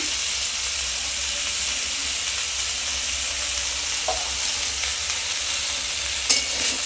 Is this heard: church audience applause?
no